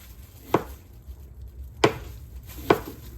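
A knife slices potatoes into thin rounds on a cutting board for stovetop scalloped potatoes, giving three crisp, separate chops spaced about a second apart, close and clear with quiet between strikes.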